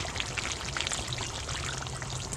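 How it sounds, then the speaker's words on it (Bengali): Hot water being poured into chicken cooking in a pan for a maan kochu chicken curry, a steady splashing stream with light sizzling bubbles, close and moderately loud, with no talking. "আমি এতে একটু গরম জল দিয়ে দেব আমি একটু গরম জল দিয়ে দিচ্ছি"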